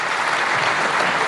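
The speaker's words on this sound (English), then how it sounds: "A big round of applause" An audience at the India Today Conclave 2016 claps in a steady, full round of applause, loud and even from start to finish.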